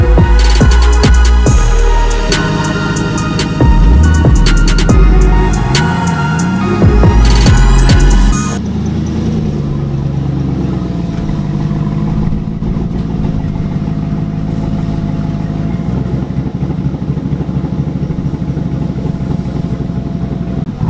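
A tuned single-cab pickup truck engine idles up close with a loping, choppy cam rhythm, after a loud, busy revving stretch at the start, then settles into a steady rumbling idle with no talking.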